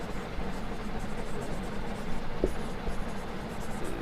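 Chalk or marker scratching on a classroom board during a ninth-grade science lesson, a steady, soft writing rustle with a brief sharper tap midway and no talking.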